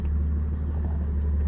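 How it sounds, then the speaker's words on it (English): A 2018 Ram 5500 4x4 truck with a Cummins diesel engine produces a steady, deep engine rumble from inside the cab while driving, loud and continuous with no talk. "I'm gonna hop in the truck and take it for a quick drive"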